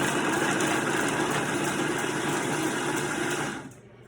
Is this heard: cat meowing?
no